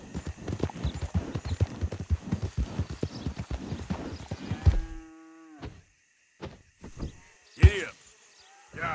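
Horse hooves clip-clop in a quick, steady rhythm in the video game Red Dead Redemption 2, close and clear. The hoofbeats stop suddenly partway through, followed by a few scattered animal calls and a short spoken phrase.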